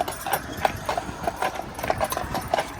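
Draft horses' hooves clip-clop on a city street in a steady, fairly close, uneven rhythm of many sharp knocks, with faint background noise throughout.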